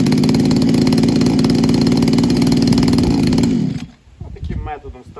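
A Powerplus POWEG3010 petrol brush cutter engine running loud and close with a buzzy two-stroke drone, steady for several seconds before abruptly cutting out and leaving quieter handling noises.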